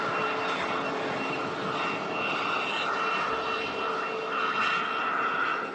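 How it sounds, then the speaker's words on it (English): An EasyJet airliner at Manchester Airport, its jet engines giving a broad, steady roar that holds at moderate volume and distance throughout, with no voices over it. "This is the EasyJet that we flew on down to Amsterdam the other year."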